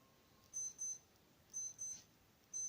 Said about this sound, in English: that was my alarm from I don't know when